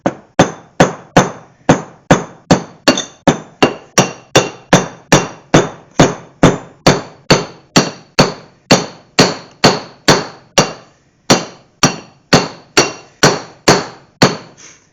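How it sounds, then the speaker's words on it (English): An old ball peen hammer with a small head and broken handle strikes a Mopar 833 four-speed gearbox part about thirty times in a steady, even rhythm, each sharp metallic clang ringing briefly, close and loud. "An old ball peen with a broken handle."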